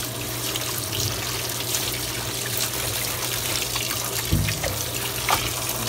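Water runs steadily from a tap into a three-compartment sink while meat is being rinsed, a continuous close splashing rush with a few brief knocks and no talk.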